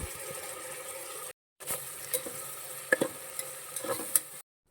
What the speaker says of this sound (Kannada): ಈಗ ಒಂದು ಸ್ಪೂನಷ್ಟು ಶುಂಠಿ ಬೆಳ್ಳುಳ್ಳಿ ಪೇಸ್ಟನ್ನ ಹಾಕ್ಕೊಂಡು ಅದನ್ನು ಕೂಡ ಫ್ರೈ ಮಾಡ್ಕೊಳ್ಳೋಣ